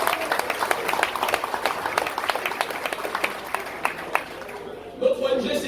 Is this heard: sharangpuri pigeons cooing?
no